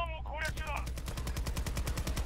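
Sentry gun in Battlefield 2042 fires a steady, rapid stream of automatic shots, loud and close, with a brief voice at the start.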